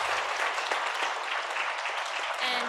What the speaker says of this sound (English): give a huge round of applause to each other